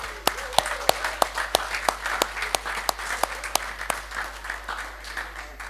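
Applause in parliament during a tourism budget debate, scattered claps forming a steady patter of hands in the chamber, with a few sharp individual claps standing out and faint voices beneath.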